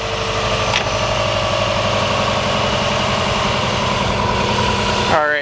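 A car engine idles steadily at close range during an alternator test, a low continuous rumble with some vibration, and a rising whine near the end.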